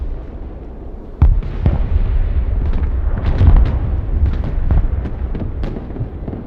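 Explosions and artillery fire from the Broken Arrow war game, a sharp blast followed by a dense run of booming, rumbling detonations with heavy bass, loud and continuous.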